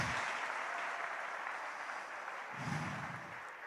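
A church congregation applauds in a steady, faint wash of clapping heard from a distance, swelling slightly near the end with a low murmur underneath.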